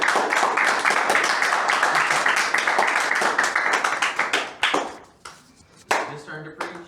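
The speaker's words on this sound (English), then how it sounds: "Let's give them a round of applause." Audience applause in a church gathering, a dense burst of clapping that thins out into scattered individual claps and fades toward the end, with some murmuring voices.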